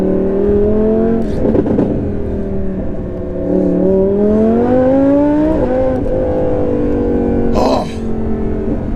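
An 850 bhp Audi R8 V10 Plus accelerates hard in loud, continuous engine roar heard from inside the car, its pitch climbing steadily and then dropping briefly at quick gear changes.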